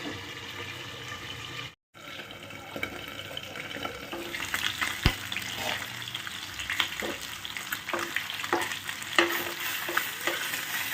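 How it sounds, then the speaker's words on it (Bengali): River fish fry in oil in a covered pan with potatoes nearby, giving a steady crackling sizzle with sharp pops and spatters, close and fairly loud, with a short gap early on. "মাছ সুন্দর করে ভাজা মানে ভেঙে যায় না"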